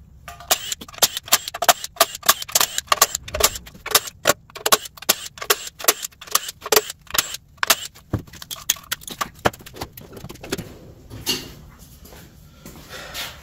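Bolts are being removed from the lower oil pan of a Toyota 2JZ engine with a ratchet. Close, sharp clicking and ticking comes in rapid bursts with short pauses, and no one speaks.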